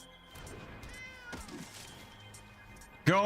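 Cats meow in a digital card game, several short mewing calls over a faint game background, ending with a louder close meow; a voice speaks quietly in between.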